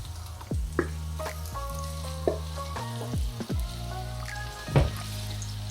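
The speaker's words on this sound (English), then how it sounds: "we're gonna wait till the oil gets hot and then we'll add the tofu" Tofu fries in hot oil with a steady crackling sizzle close by, broken by a few sharp pops and clacks from handling, while a constant low hum sits underneath.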